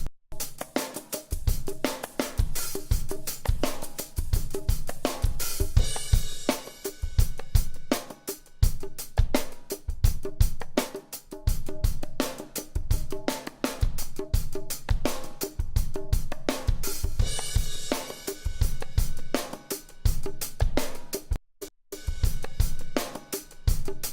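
Acoustic drum kit run through an 1176 compressor with all buttons in, giving heavy saturated compression and swollen room ambience; a steady groove of punchy kicks, snares and dense cymbals plays continuously, loud and close.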